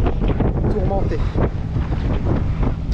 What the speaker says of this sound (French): Il y a pas mal de vent, 14 nœuds là.